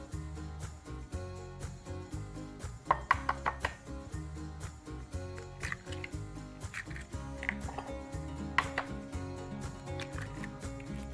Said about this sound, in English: let's crack 6 eggs